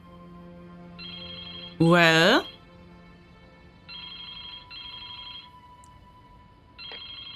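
A telephone rings in the point-and-click adventure game Baphomets Fluch 2 (Broken Sword 2), a steady electronic trill in several separated bursts, interrupted by a loud spoken word partway through.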